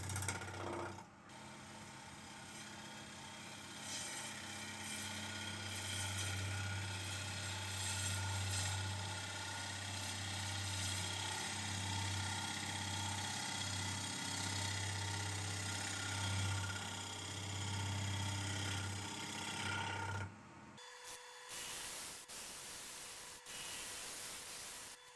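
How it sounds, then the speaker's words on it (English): A chisel cuts eucalyptus wood spinning on a lathe, giving a continuous rough scraping hiss over a low motor hum for about twenty seconds before the cutting stops and the machine winds down. "how nicely this wood's cutting with the chisel at the moment"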